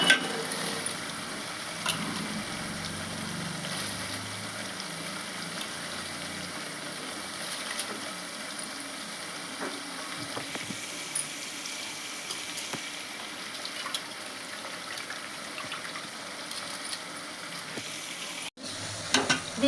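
Rice going into a pot of water at a rolling boil for a Telugu coloured rice dish, giving a steady soft bubbling and hiss with occasional light knocks, faint and continuous, with no voices.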